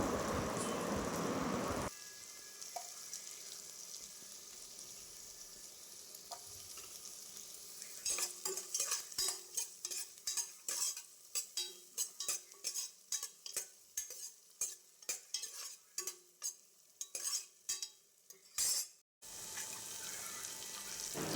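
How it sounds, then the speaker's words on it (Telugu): Potato, beans and tomato sizzle while frying in ghee, with a steady hiss broken by a long series of rhythmic scraping stirs from a spoon in the pan, close and fairly loud, no talking. "ఇప్పుడు ఈ పొటాటో బీన్స్ టొమాటో ఇవన్నీ కూడా బాగా ఫ్రై అవ్వాలండి గీలో"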